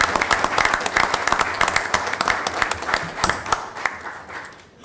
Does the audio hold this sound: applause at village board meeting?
yes